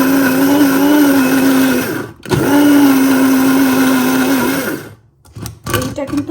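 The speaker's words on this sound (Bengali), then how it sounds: "পেঁয়াজ আর শুকনো মরিচটা ব্লেন্ড করে নিচ্ছি, সাথে একটু সরিষার তেল দিচ্ছি" Electric blender whirring loudly as it purées onion and dried chili with a splash of mustard oil, two long steady runs separated by a brief stop, then a pause and some handling knocks.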